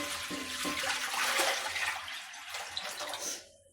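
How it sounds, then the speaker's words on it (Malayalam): Water pours in a steady rush into an uruli, a wide metal cooking vessel set on a stove for sambar, then tapers off after a few seconds. "ഇനി നമുക്ക് അതിനകത്തോട്ട് കുറച്ച് വെള്ളം ഒഴിക്കാം"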